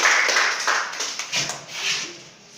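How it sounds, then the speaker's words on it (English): An audience claps for a student at a self-awareness sensitisation session for students in Ajegunle, Lagos, a dense, steady patter of many hands that swells and dips over a few seconds. "okay, clap for him"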